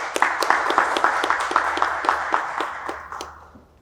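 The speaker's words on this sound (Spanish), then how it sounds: "Vamos a recibirlo con un fuerte aplauso." An audience at a poetry reading applauds, a steady patter of many hands clapping that fades out after a few seconds.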